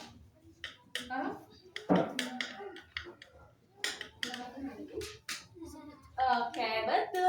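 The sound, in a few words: classroom children clapping hands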